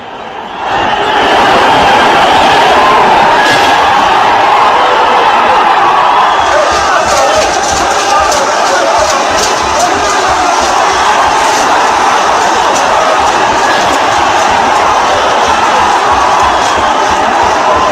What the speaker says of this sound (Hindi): ये हजारों की भीड़ आप देख रहे हैं जो संसद की तरफ भाग रही थी